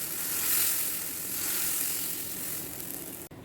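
Chickpea dosa batter sizzles steadily on a hot pan, a loud continuous frying hiss heard alone for a few seconds.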